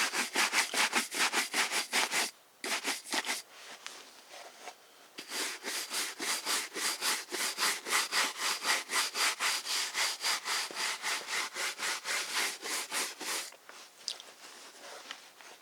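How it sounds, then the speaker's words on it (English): A knockoff buffing brush works over leather boots in fast, regular back-and-forth strokes, a rhythmic bristly swishing that carries on close and steady with only a brief pause. "this is just a knockoff buffing brush"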